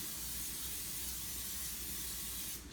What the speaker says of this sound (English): Take some Pam or some other cooking spray real quick while your pan is preheating.